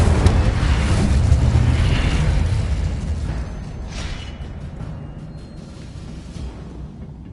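A fire spell blasts in Hogwarts Legacy, a loud roaring boom that rolls on and slowly dies away over several seconds. It stands alone with no talking.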